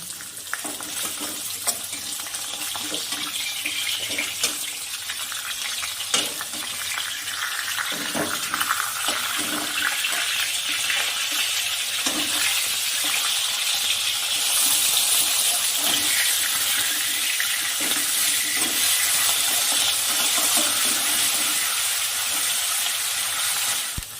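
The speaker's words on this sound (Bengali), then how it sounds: "তেল গরম হয়ে গেছে, মাছগুলো সব ভেজে নেব।" Steady sizzling of katla fish frying in hot oil, a continuous crackling hiss with occasional stirring clatter, close and fairly loud, no talking.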